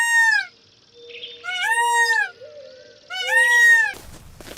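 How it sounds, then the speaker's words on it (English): A cat meows three times in drawn-out, rising and falling calls separated by short pauses, loud and close, ending in a short burst of noise. "cat,"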